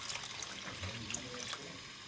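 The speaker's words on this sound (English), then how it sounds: "I'm also going to be adding a little bit of water in addition to our chicken stock." Water poured into a pot of red rice cooking with chicken stock, a soft continuous splashing trickle, close and fairly faint.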